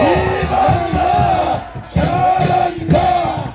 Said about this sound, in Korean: 우리 이만나에게 큰 박수 한번 해주십시오